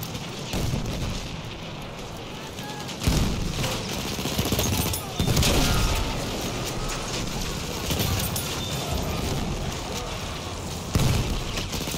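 Tank cannon fire and explosions in a video game battle, continuous dense booms and blasts with louder bursts, mixed with speech throughout.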